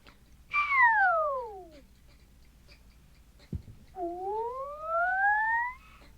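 A whistle run through a Waves Brauer Motion spatial plugin, with a long descending glide followed by a rising sweep after a brief click, moving and sweeping in space, moderately loud against quiet background.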